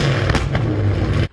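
Jeep Trackhawk with muffler delete, a loud close exhaust roar in a single sustained burst with sharp cracks, then cutting off abruptly.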